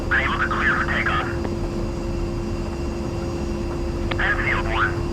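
A-10 jet engines in a flight simulator produce a steady, loud whine and roar during takeoff, as radio voices talk over it in two short bursts.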